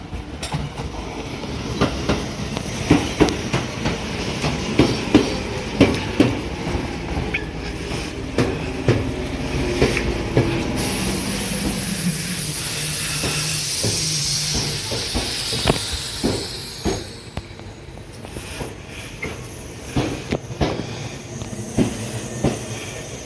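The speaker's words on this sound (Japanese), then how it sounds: "内側線の電車は特急電車です。" An express train moves through a Japanese station with rhythmic clickety-clack of wheels over rail joints, rumbling and hissing, rising to a louder hiss midway.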